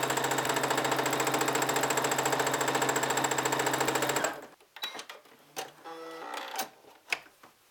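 Brother Simplicity SB3129 computerized sewing machine quilting a straight stitch at full speed, a rapid loud even needle rattle for about four seconds that stops abruptly, followed by faint clicks and handling noises.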